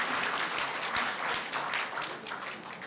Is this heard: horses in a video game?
no